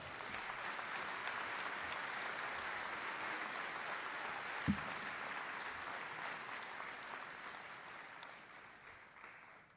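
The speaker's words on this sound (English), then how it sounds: "Please give our marshals and ushers a round of applause." A large high school graduation audience claps in a steady, dense wash of applause that holds for nearly ten seconds, with one brief thump midway, then slowly thins toward the end.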